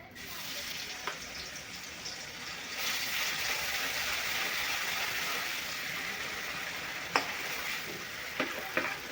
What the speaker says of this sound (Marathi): आता मसाला आपण दोन्ही सुक्याचा आणि रश्श्याचा मसाला एकदाच आपण भाजून घेणार आहे तो